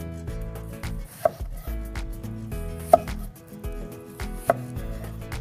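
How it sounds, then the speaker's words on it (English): A knife chops into a raw onion for a blooming onion, with three sharp cuts spaced well apart against a steady background hum, and no voices. "I'm gonna make 3 incisions between each of these original cuts"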